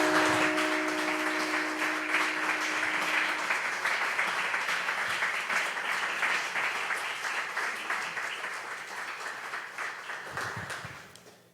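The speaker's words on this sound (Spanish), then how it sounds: "Dale un aplauso al Señor, mi hermano." A church congregation claps in sustained applause, dense and steady near the listener, slowly fading out toward the end, with faint voices briefly audible at the start.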